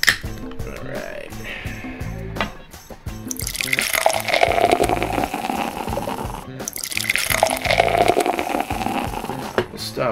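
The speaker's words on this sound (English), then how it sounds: "let's go ahead and open this up, get the pour going" Peach Punch beer, a Block 15 and Great Notion collaboration, pours into a glass in two steady, close bursts of liquid gurgling and fizzing, with faint handling noises in between.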